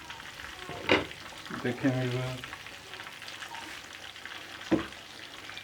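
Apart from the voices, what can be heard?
chicken frying and roasting in covered pan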